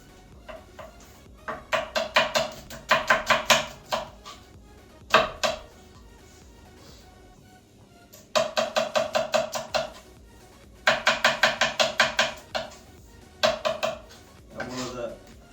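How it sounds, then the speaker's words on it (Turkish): Onions being chopped with a knife on a board while making Albanian-style fried liver in a home kitchen, in bursts of quick rhythmic cuts separated by short pauses, with clatter of kitchenware and a voice talking between bursts. "Soğanlarımızı doğrama aşamasına geçiyoruz"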